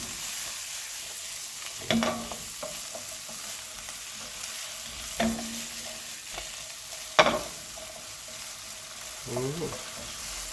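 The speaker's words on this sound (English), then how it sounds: "We're gonna go ahead and dump the potato in" Potatoes cooking in a pot of Jamaican curry shrimp, a soft low sizzle with a few distinct stirring scrapes and clunks spaced through the clip.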